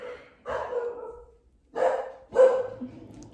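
Dogs bark in short bursts, a few rough barks clustered near the start and again toward the end, close and fairly loud with quiet gaps between.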